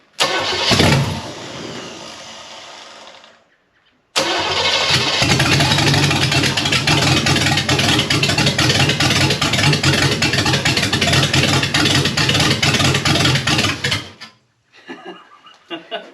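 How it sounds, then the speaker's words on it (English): A $500 big block Chevy V8, being rebuilt as a jet boat engine, gives a short cranking burst, falls silent, then fires up and runs loud and rough for about ten seconds while spraying fuel, before cutting off into quiet voices. "you can hear it runs, so that's pretty cool"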